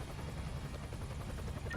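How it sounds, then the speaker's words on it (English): A SWAT helicopter in the Emergency 5 video game gives off a steady, low, rapid rotor thump, continuous and moderately loud. "And our SWAT helicopter, are you there?"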